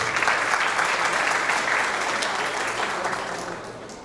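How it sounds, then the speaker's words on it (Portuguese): Sustained audience applause fills a business conference hall in Brazil, a dense, steady patter of many hands clapping that stays loud before tapering slightly toward the end. "Uma salva de palmas, por favor."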